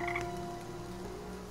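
A frog croaks in the video game Enigmatis 3, a close, fairly loud throaty call near the start trailing into a low sustained tone under ambient game music.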